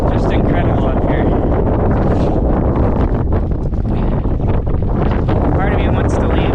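Strong wind roars across the microphone high on Mount Baker in the North Cascades, a loud, continuous buffeting gust with no letup.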